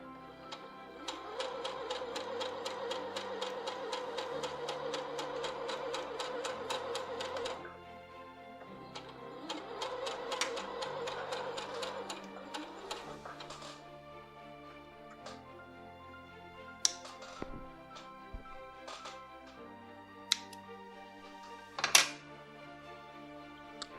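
An EverSewn Hero sewing machine stitches a quarter-inch seam joining two 2.5-inch fabric blocks, giving quiet bursts of rapid, regular ticking that start, pause and resume, with a few sharper clicks near the end.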